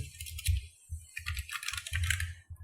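A password is typed on a computer keyboard in a rapid run of close keystrokes with soft thumps, pausing briefly between bursts, with no talking.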